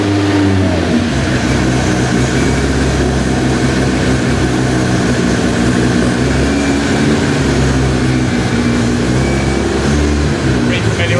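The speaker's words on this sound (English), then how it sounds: "Rev it up and press some buttons." A 600hp Porsche 964 Turbo engine revving hard, a dense continuous roar with heavy low rumble held loud throughout, close by, with voices partly buried beneath it.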